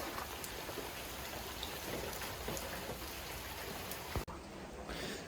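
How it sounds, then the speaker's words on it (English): Steady rain falls in Croatia, a dense, continuous hiss of drops spattering on surfaces nearby, with a sharp brief knock and dip near the end before the downpour resumes. "Oh, it's actually raining here."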